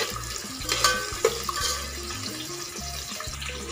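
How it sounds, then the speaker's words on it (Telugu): Onions frying in oil in a pan for bagara rice, a close crackling sizzle broken by stirring clatter and scraping of a spoon against the pan. "ఈ ఆనియన్స్ గోల్డెన్ బ్రౌన్ వచ్చేంత వరకు బాగా ఫ్రై చేసుకోవాలి"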